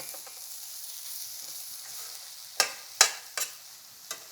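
A batch of ingredients being mixed for a Thanksgiving turkey, a soft steady background hiss with a few sharp knocks and scrapes of the utensil near the end.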